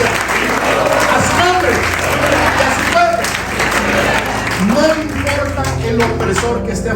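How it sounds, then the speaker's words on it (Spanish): Sustained applause from a church congregation during a sermon, dense steady clapping filling the room for several seconds while a preacher's voice and crowd voices carry faintly over it. "Si va a aplaudir, aplaude."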